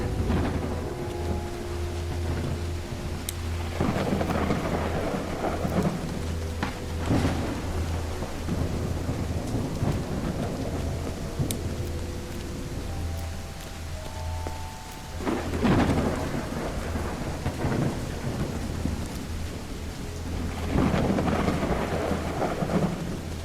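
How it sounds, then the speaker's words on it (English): Steady rain pours throughout while rolling thunder rumbles repeatedly in the game Call of the Elder Gods, with a few tonal background notes drifting in and out. "It's raining cats and dogs here."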